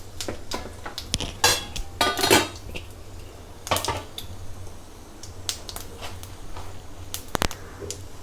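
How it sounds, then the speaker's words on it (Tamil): Mustard seeds, urad dal and cumin fry in hot oil for a South Indian tempering, with scattered sharp pops and clicks and a few louder metallic knocks from a pan or spoon, close by and irregular. "இதில் தாளிக்கிறதுக்கு வந்து கடுகு, உளுத்தம்பருப்பு, கொஞ்சம் சீரகம், அப்புறம் பொரிஞ்சு வரப்போ கொஞ்சம் பெருங்காயம் போட்டுக்கலாம்."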